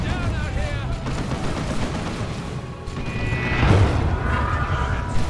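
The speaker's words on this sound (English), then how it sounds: "Blastmaster gets a really good shot there." A Blastmaster weapon fires in the Dawn of War 2 battle amid constant rumbling combat noise, with a heavier blast swelling midway and sustained tonal whines, while a voice talks over it.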